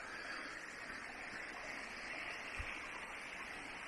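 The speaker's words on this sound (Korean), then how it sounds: "포코동 폭포 앞을 지납니다" Steady broadband rush of Pokodong waterfall in Jomurakgol, Gapyeong, continuous and fairly close, with a single low thump partway through and no voices.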